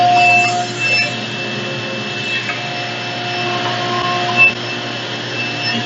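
A table saw rips through plywood with a steady, moderately loud whirring drone and faint rubbing of material across the blade, alone with no talk.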